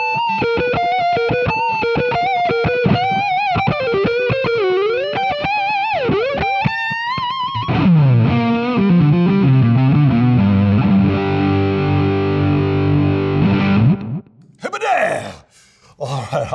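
An electric guitar with DiMarzio PG-13 mini humbucker pickups plays distorted on the neck pickup: first quick melodic licks, then sustained heavy chords ringing loud and close, ending with a brief scrape of noise.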